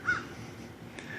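A single short crow caw sounds near the start outdoors by a curb, moderately faint, followed by quiet ambient noise and a brief faint click.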